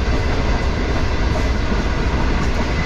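Green Line Express train running at speed on the track between Raiwind and Khanewal, a loud, constant rumble and rattle of wheels and carriages heard from onboard.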